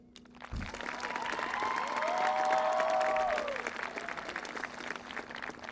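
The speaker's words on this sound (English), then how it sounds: "I want to give a big thank you and a round of applause for her." Applause breaks out at a LaPine High School graduation ceremony, a full crowd clapping steadily, swelling to a peak and then tapering while a sustained tone hangs faintly beneath.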